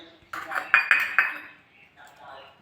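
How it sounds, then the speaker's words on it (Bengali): Ceramic bowls knock and clink together while being greased with white oil for steamed eggs, a few sharp close clinks in quick succession, then quieter handling noise. "বাটিগুলো আমি একটু সাদা তেল মাখিয়ে নেব।"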